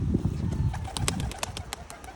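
Pigeons make low murmuring coos and fluttering sounds nearby, with sharp clicks and taps scattered throughout.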